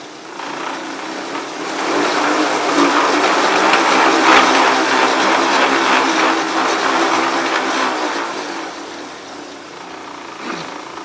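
A track bike spinning up on training rollers gives a steady, loud whirring roar that swells over the first few seconds, holds, then eases slightly toward the end, with no talking.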